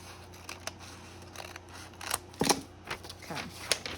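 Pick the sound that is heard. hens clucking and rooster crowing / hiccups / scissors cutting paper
scissors cutting paper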